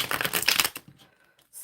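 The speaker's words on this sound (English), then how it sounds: "let's shuffle for tarot" Tarot cards being shuffled: a dense, rapid papery riffling burst lasting under a second, followed by near silence and a faint soft rustle at the end.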